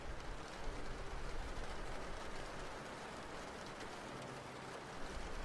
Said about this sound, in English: the soothing sound of rain tapping against the window greets you